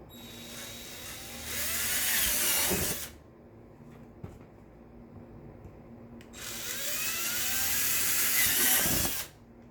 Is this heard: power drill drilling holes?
yes